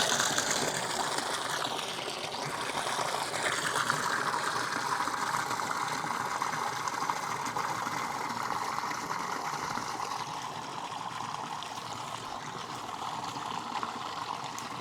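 Water pours steadily into a cattle drinking trough on a farm with newly arrived Highland cattle, a continuous faint gushing and trickling that holds throughout with no talk.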